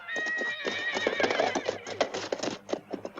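Several horses whinny and neigh in a western-era horse corral, their shrill calls rising over a busy patter of hooves and shuffling, fairly close and continuous.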